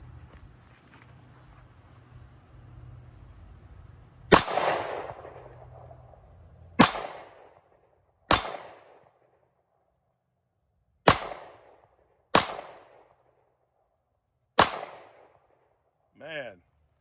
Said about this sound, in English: You can see I'm just shooting the metal flip target down here